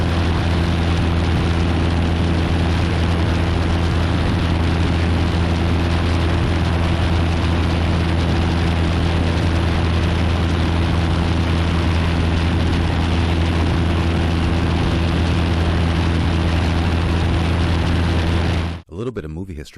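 A jet airplane climbing out after departure from Keene, New Hampshire, gives a loud, steady engine drone with a low hum that runs unbroken for about nineteen seconds, then cuts off abruptly near the end.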